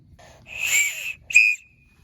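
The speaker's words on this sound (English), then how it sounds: "All right, first we've got emergency whistles." Two shrill, piercing whistle blasts from an emergency whistle, the first longer and wavering, the second shorter and sharper, close by.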